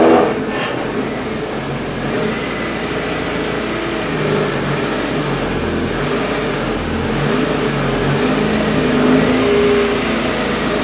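A Mazda Miata rolls into a garage, its engine note a steady mid-pitched hum with slight revving swells, close and continuous without speech.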